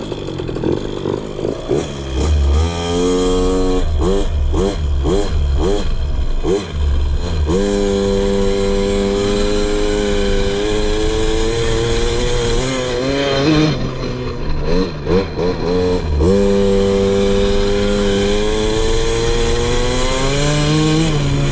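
KTM 50 two-stroke dirt bike engine, close and loud, revving repeatedly in quick throttle blips and then holding higher buzzing revs with rising and falling pitch during air screw tuning.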